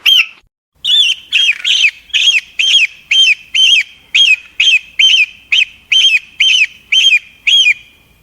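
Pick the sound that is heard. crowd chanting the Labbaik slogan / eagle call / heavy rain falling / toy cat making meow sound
eagle call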